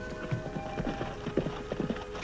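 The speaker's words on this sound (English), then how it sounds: "I'll water the horses and be with you in a minute, Annie." Horse hooves clip-clop in an uneven trotting rhythm over a steady background hum, moderately close.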